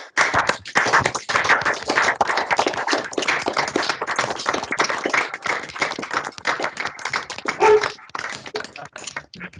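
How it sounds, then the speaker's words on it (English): Participants on a video call come off mute for a round of applause, producing scattered, uneven clapping from many separate microphones that continues for several seconds, with stray taps and small background noises mixed in. "ask everybody to come off mute and give a round of applause"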